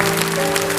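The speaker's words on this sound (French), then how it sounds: "on applaudit très très fort tous ces petits concurrents" A short burst of steady clapping from a TV studio audience applauding child contestants in 1977, dense and continuous with a faint tonal hum beneath.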